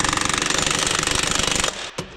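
Pneumatic impact wrench tightening truck tire lug nuts, a fast loud rattling hammer of blows that stops abruptly, followed by a short clank, close with no talk.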